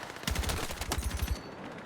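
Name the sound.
AK-205 gunfire in video game Battlefield 6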